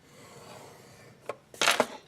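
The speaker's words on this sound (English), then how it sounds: "you can use a score tool or the edge of your ruler to make your crease" A score tool is drawn over paper on a scoreboard, leaving two short, dry scraping strokes at close range after a quiet moment; the second stroke is longer and louder.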